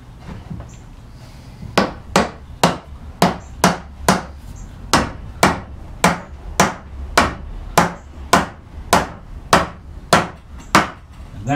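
A sub-assembled drawer unit being knocked down onto wooden tenons to lock it in place, a steady run of about fifteen sharp, loud mallet blows on wood, evenly spaced and close.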